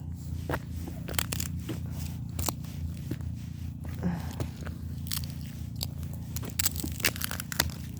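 Footsteps crunching over ice on a winter walk at 23 degrees, with a steady series of crisp crackling steps close by, about one or two per second, over a low rumbling background.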